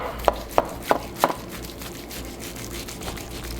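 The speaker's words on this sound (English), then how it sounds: "Let's just cut it in the middle here." A knife cuts through the middle of a smoked brisket on a board, giving four crisp, evenly spaced strikes close by, followed by quieter, softer handling noise.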